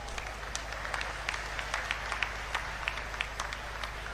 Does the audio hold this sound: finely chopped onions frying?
no